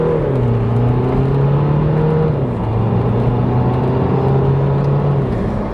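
Steady, loud engine drone heard from inside a BMW 123d diesel car as it drives and accelerates. The pitch rises through the gears, with a clear drop at a shift midway.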